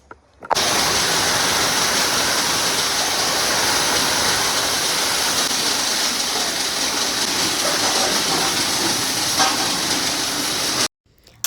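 Water sprays steadily and loudly onto the paved parking area of a house, a continuous rushing hiss that starts abruptly, runs unbroken for about ten seconds, then cuts off.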